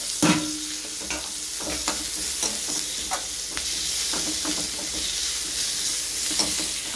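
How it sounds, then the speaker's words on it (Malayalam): Tomatoes added to softened onions fry in a pan for a pulissery curry, with a continuous sizzle and sharp scraping stirs and clinks recurring every second or so, close up. "ഇനി നമുക്ക് അതിലേക്ക് തക്കാളി കൂടി ചേർത്ത് കൊടുക്കാം."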